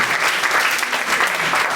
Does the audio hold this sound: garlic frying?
no